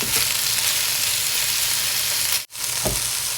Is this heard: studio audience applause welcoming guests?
no